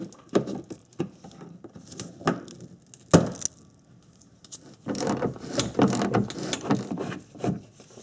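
A hand ratchet loosens fasteners under the rear bumper of an Acura TL: scattered clicks and mechanical ticks at close range, ending in a denser run of rapid ratcheting.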